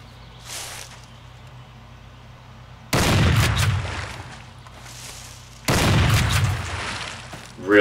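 Two loud, booming rifle shots ring out in Cabela's Big Game Hunter Pro Hunts as an animal is fired on. Each lands with a sharp crack and a long rolling echo, and the shots fall a few seconds apart.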